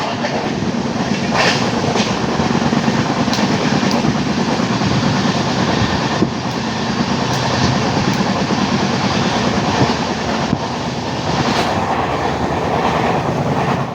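A crowded passenger train running from Kollam to Coimbatore gives a loud, continuous rumble with rhythmic clickety-clack of the wheels, heard from inside the carriage.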